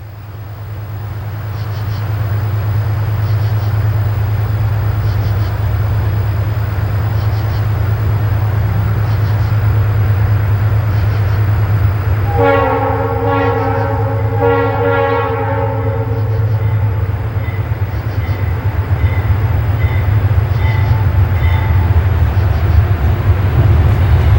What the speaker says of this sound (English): The familiar sound of an approaching train directs our attention to an eastbound approaching on the Pittsburgh line